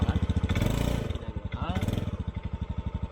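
A motorbike engine putters out in the Philippine jungle, a close, rhythmic low thumping pulse running the whole time while people talk over it in the middle.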